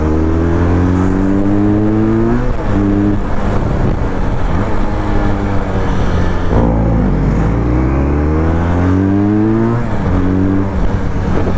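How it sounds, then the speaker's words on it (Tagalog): A two-cylinder motorcycle engine runs steadily and loudly up close, its pitch climbing and dropping as it revs through the gears. "ganda ng tunog ng motor na to"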